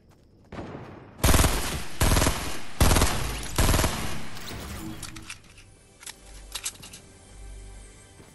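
Several loud, close bursts of rapid automatic gunfire from a Fortnite match, separated by short gaps, then fading into quieter scattered clicks and distant pops.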